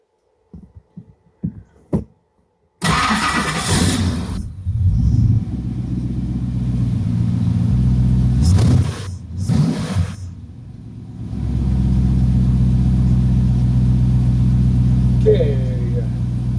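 A Lamborghini Countach engine cranks and catches after a few faint clicks, then roars into a loud, rumbling idle with two sharp revs partway through, settling into a steady deep throb.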